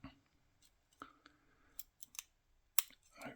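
Small metallic clicks and scratches from tools working the levers of a lever padlock, a Bulldog or Sentinel, heard close up and quiet, with a sharper click near the end among soft scraping.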